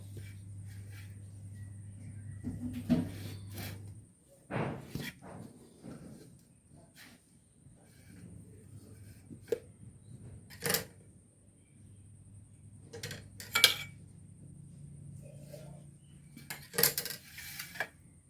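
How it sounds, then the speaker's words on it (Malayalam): A knife cutting into a ripe papaya, heard as faint, irregular taps, clinks and scrapes spread across a quiet kitchen with pauses between them. "ആദ്യം ഞാനിതൊന്ന് മുറിച്ച് നോക്കുകയാണ്"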